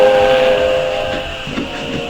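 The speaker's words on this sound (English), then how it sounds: "I'd get aboard that train if it weren't so slow." A train crosses a long railway trestle in an old-time radio drama effect: a loud, close steam whistle blows a sustained tonal call over a steady rumbling rolling noise from the wagons. No voices are heard.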